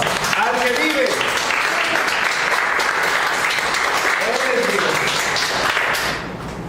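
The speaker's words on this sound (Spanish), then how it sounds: "Dar una ofrenda de palmas al que vive." A church congregation claps and applauds loudly and continuously for several seconds, a dense sustained wash of applause that fades at the end, with voices mixed in.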